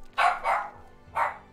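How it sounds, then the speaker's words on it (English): A dog barks three times at close range: two quick barks, a short pause, then a third, with no talking in between. "This dog is not listening to me."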